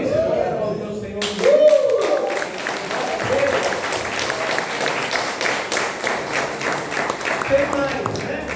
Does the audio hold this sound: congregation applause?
yes